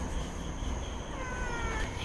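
A cat meows in a house doorway, apparently trying to slip indoors; soft tonal calls sit over steady low background noise, with faint human voices nearby.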